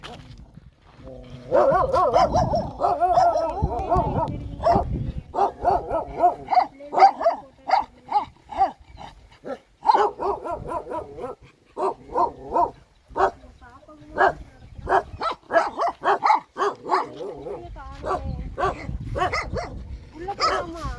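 A dog lying out in the hot sun barks and whimpers in scattered bursts, near and fairly loud, while several people talk excitedly around it.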